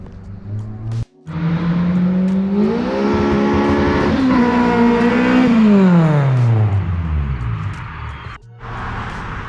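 A car's exhaust revs hard and close, the deep engine note climbing steadily, holding high, then falling back down, loud and alone between short cutoffs at each end.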